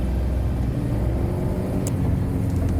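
The engine of a Suzuki Katana barn-find motorcycle idles, a steady low rumble and whir recorded close up with little variation and no speech.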